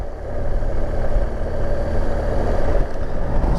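BMW GS motorcycle engine heard from the rider's helmet with the visor open while riding, a steady loud low drone with rumbling wind buffeting, no talking.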